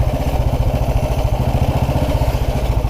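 A 1929 Ariel motorcycle engine thuds along in a loud, steady low pulse up close, with no clear break or distinct clunk of a missed gear change standing out.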